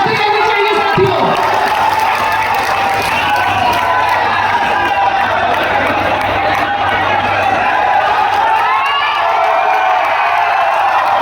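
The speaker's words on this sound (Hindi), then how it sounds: "जोरदार तालियां बजती रहनी चाहिए साथियों" A huge rally crowd at a prime minister's arrival claps and cheers continuously, a loud, dense roar of applause, whoops and shouting that holds steady throughout, with a voice over a loudspeaker rising above it.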